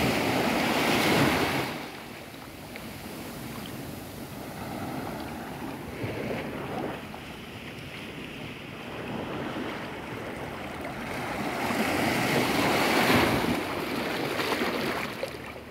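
Surf breaks on Pantai Air Dingin beach in Tapaktuan, South Aceh, in repeated swells, washing in and receding with a steady hiss and occasional wind rumble; no talking.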